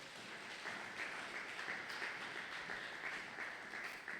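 A congregation at a Christian prayer-marathon gathering applauds and cheers, a steady, fairly faint wash of clapping and voices that holds evenly for about four seconds.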